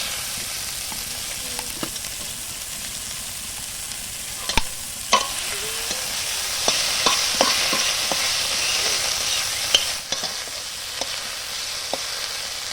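Giant taro (ghatkol) sizzles steadily in a hot pan while a utensil scrapes and clinks against it now and then, close and fairly loud.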